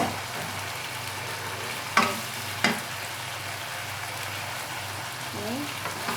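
Beef paprik fries with sliced onion and chilli in a pan, giving a steady close sizzle under stirring, with two sharp clanks of a utensil against the pan early on.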